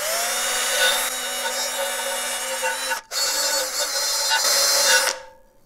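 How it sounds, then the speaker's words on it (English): A wire wheel on a power tool strips paint from Peugeot 103 RCX moped parts, a loud, steady high-pitched whirring grind that cuts out briefly near the middle, resumes, then stops near the end. "See, with a wire wheel."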